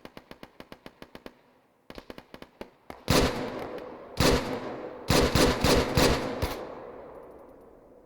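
Gunfire during a skirmish: quick volleys of sharp, rapid pops give way to several louder, echoing bursts of repeated shots that ring out and decay across open ground, with no talk over them.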